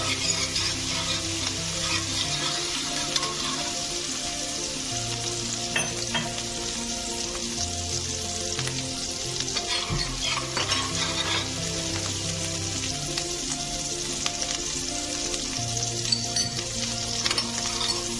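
Onions fried in a pan for a thin catla fish curry give a dense, continuous sizzle with steady stirring and a low hum underneath, close and fairly loud throughout, with no talking.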